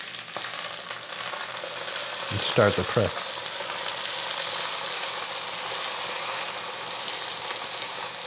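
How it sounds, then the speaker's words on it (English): Steady, loud sizzling and crackling of mushrooms frying in a hot pan pressed under another pan, with a short spoken phrase partway through. "You can hear that sizzling and that crackling."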